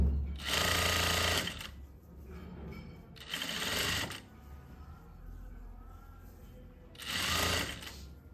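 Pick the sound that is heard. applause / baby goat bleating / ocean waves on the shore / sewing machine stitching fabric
sewing machine stitching fabric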